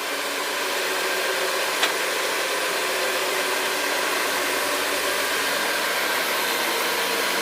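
A counter-rotating carpet brush machine runs steadily over carpet with a loud, even mechanical roar and hiss that never lets up, close by and with no voices.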